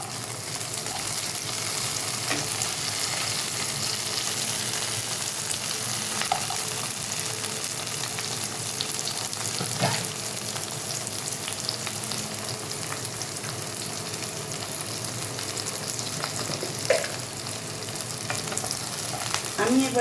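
Chicken pieces fry in a pan with chopped tomato for a chilli chicken dish, a steady close sizzle with occasional stirring clatter throughout and no talking.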